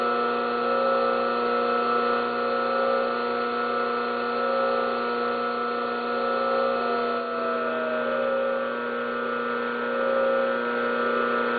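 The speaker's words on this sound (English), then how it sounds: "there's our motor running at probably pretty close to its rated speed. Crank this guy back down. You can see we'll slow it back down." A three-phase electric motor run from a 220-to-440-volt rotary phase converter steadies at near rated speed then slows, giving a continuous close hum with a tone that bends downward partway through, steady and without talk.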